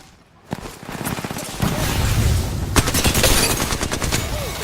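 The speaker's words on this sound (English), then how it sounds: "They're shooting at us." Rapid automatic gunfire in the Apex Legends video game, dense overlapping bursts of shots that are loud and continuous, with heavier volleys toward the end.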